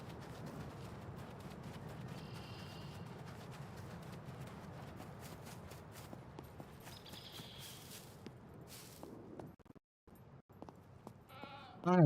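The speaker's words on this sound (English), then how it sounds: "I'm hearing a goat." Goat bleats in the SCUM survival video game, a few faint calls over a steady rumbling game ambience with footstep-like clops, ending in a brief louder burst.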